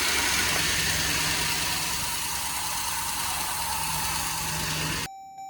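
Jeep Grand Cherokee engine running under the open hood with an accessory belt spinning, a loud, steady close-up whir and rumble that cuts off abruptly near the end, leaving a faint tone.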